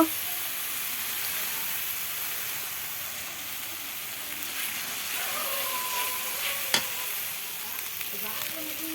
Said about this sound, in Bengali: ভালো করে মশলা কষানো লাগবে